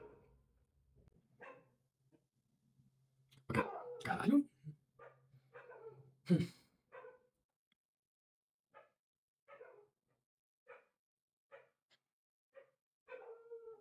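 A dog barks a few times at close range, sharp bursts mixed with a voice, followed by quieter scattered yips and short sounds.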